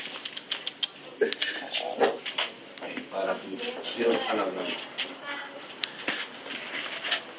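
A puppy whimpers and whines in short, high cries scattered under a person's voice speaking nearby.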